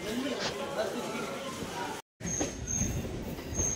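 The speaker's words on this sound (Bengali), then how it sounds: "আবার ট্রেনটি ছেড়ে আস্তে আস্তে মাঝেরহাট স্টেশনের দিকে চলতে শুরু করেছে।" A Sealdah–BBD Bag local train starting to roll out of Nialipur station toward Majerhat, a rumbling carriage with wheels squealing on the rails and a voice talking over it, with a brief dropout partway through.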